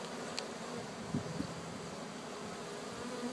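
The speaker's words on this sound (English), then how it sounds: "So as you can see right here, all the bees." Bees buzz steadily around a live, year-old hive with honeycomb and larvae exposed during removal in Venice, California, a constant close drone with no voices.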